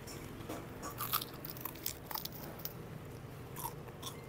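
Crispy pata, a fried pork knuckle, is bitten and chewed in repeated close, crackly crunches, fairly quiet, with no talking.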